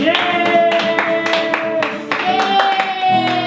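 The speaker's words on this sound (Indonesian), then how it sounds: "Berikan tepuk tangan bagi Tuhan Yesus." Hands clap in a sharp rhythmic beat during a children's Sunday school church service, the claps set against singing and sustained music tones.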